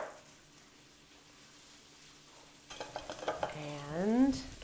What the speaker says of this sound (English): And give them a quick toss.